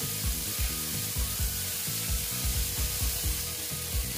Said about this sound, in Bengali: দিয়ে ভালো মতো আমি ভেজে নেব।